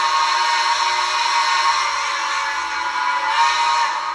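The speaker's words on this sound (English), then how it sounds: "that's the horn I chose. I absolutely love that whistle." A loud, steady model train whistle blowing continuously for a few seconds, close and shrill with a slight wavering.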